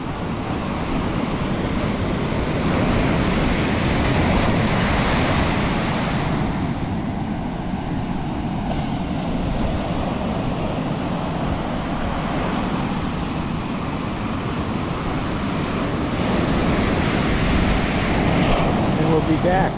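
Ocean surf rolls and crashes continuously, a broad steady wash mixed with wind noise buffeting the microphone, with no clear breaks between waves.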